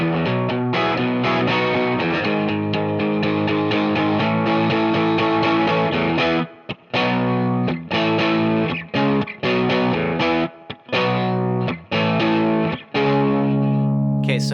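Distorted electric guitar playing the chorus of a song, thick sustained chords through an effects unit, loud and close, with a few brief choppy gaps near the end and no talk.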